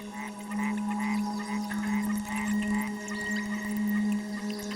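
A chorus of white-lipped frogs calls in a tropical rainforest at night, their short, repeated chirping notes overlapping densely over a constant low drone, loud and continuous throughout.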